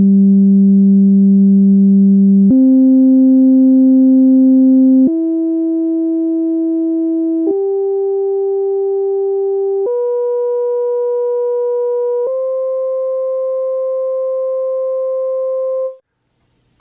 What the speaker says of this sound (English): here is what each harmonic sounds like individually,